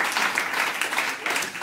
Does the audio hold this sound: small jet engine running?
no